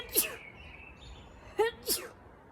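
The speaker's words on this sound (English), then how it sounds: "I'm gonna sneeze." A few short, sharp bursts of breath, sneeze-like, with quiet room tone between them.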